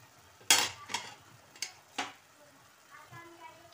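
Chicken keema gravy stirred with a spoon in a pan, a few distinct scraping strokes against the metal over soft sizzling, followed by faint low clinks.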